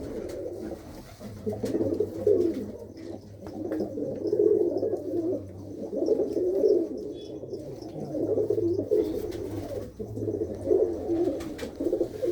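A flock of pigeons kept by a breeder coos continuously in low, rolling, overlapping calls, close and steady throughout with no talking.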